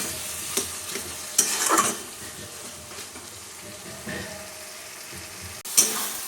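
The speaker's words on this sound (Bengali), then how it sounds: "এবার আমি এটাকে ভালো করে মশলার সাথে মিশিয়ে নেব" Boiled jackfruit seeds being stirred with spices in a sizzling pan, a spatula scraping and clattering in several bursts over a continuous frying hiss, close by with no talking.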